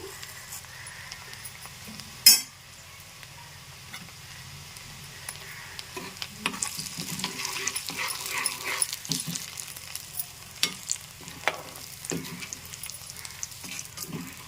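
Chana dal, urad dal and fenugreek seeds fry in sesame oil in a pan for a grated raw mango pickle. A steady crackling sizzle builds after a sharp knock near the start, with soft stirring scrapes and no talk.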